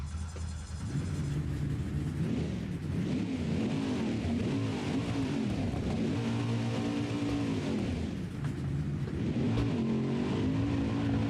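A NASCAR stock car engine in a BeamNG video game mod roars loudly and continuously, with deep rumbling revs rising and falling as the car accelerates and shifts.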